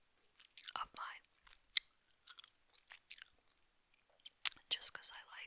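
Close-miked gum chewing in an ASMR-style recording, with wet, crisp bursts of chewing and small mouth clicks arriving in irregular clusters, loud and intimate, with brief pauses between bites.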